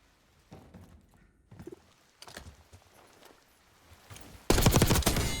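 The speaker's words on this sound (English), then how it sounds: "So whenever you're ready, let's have a gunfight." Gunfire during a one-on-one video game gunfight: a few scattered shots and footsteps at first, then a loud, sustained burst of automatic fire near the end.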